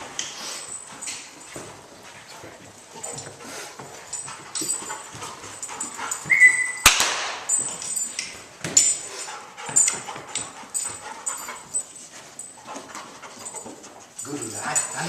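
A bug detection dog in training whimpers and pants close by, with soft shuffling and pawing noises, a sharper clatter midway, and a quiet indoor background throughout.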